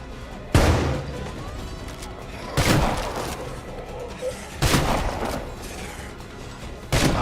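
Shotgun blasts fired at zombies in State of Decay 2, a video game: four loud, booming shots spaced about two seconds apart, each followed by a short decaying rumble over low background game ambience.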